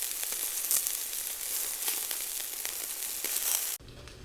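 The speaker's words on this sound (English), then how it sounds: "my favorite thing to do is grill sausages indoors on it" Italian chicken sausages sizzling on a Cuisinart indoor grill, a close, steady crackling hiss with scattered pops that runs evenly and then stops abruptly near the end.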